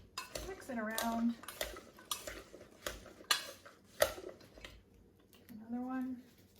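Okra tossed with oil and seasoning salt in a bowl, with close clattering and scraping bursts as it is mixed, and brief voice sounds in between.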